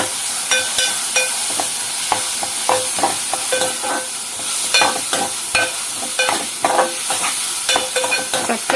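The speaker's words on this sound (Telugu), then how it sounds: "చక్కగా ఇది బ్రౌన్ కలర్ వచ్చే వరకు వేపుకుందామండి" Onions and curry leaves fry in a pan, a loud close crackling sizzle with frequent stirring scrapes and sharp pops throughout, no voices present.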